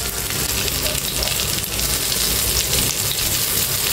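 Black pomfret fish frying in oil in a pan, a loud, dense, continuous sizzle that holds steady without a break.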